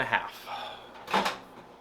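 A microwave door is handled while food goes in: two short, light clunks about a second apart, close and fairly quiet.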